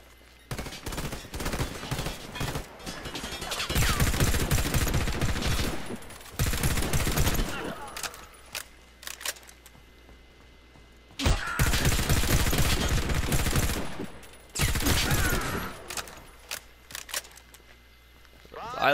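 Rapid video game gunfire comes in loud bursts separated by brief lulls, with repeated volleys of shots that sound like automatic weapons fire.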